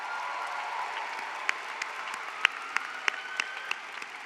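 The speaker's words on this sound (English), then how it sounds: "If we could give them a quick round of applause." A large commencement audience applauds the volunteers, a steady wash of clapping with a few sharp individual claps standing out toward the end; no talk over it.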